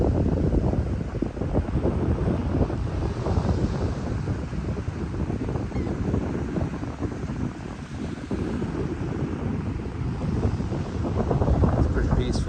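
Breeze buffets across a sandy shore, a steady rumbling wind roar that covers the whole stretch, loud and close, with someone talking through it.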